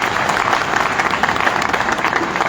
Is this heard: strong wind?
no